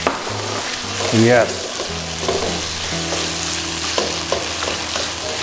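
Meat and vegetables with red curry paste and sugar stir-fry in a hot pan, sizzling steadily while a utensil scrapes and clatters. A voice speaks briefly over the cooking.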